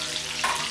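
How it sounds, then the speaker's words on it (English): Herbs and spices sizzle and fry in hot oil in a pan for a Jamaican-style chicken breast and ackee dish, a steady close crackle with a brief stirring scrape near the end. "I'm gonna saute it until they are"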